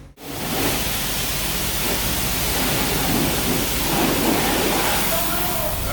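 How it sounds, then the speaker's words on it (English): A truck is sprayed down with water after an oil change and greasing, a loud, unbroken broadband hiss of spray that holds level from just after the start to the end. "Getting the old girl washed up now"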